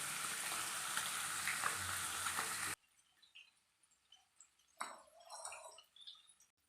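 Fish frying in a pan in a Kerala-style fry gives a loud, steady sizzle for a few seconds, then cuts to quiet, with soft crackles and a brief louder bubbling burst near the end.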